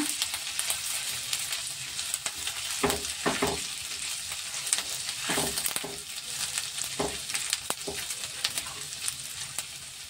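Chili paneer fries in a hot pan with a steady, close sizzle, broken by scraping and clattering bursts as a spoon stirs the pieces.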